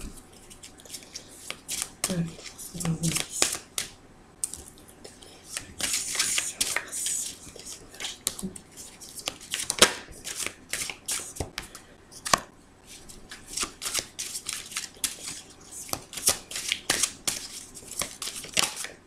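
Tarot cards shuffled by hand for a reading, giving a steady run of soft riffling and slapping card noises close up, with brief faint voice sounds in places.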